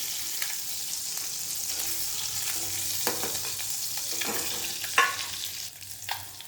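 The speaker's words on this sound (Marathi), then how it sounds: "आता हे फक्त असं हलवून घ्यायचं आहे छान असं परतवून झालेलं आहे" Eggs frying in oil in a pan while being stirred and turned, a steady moderate sizzle with intermittent spatula scrapes and a sharper clink toward the end, close by and free of talk.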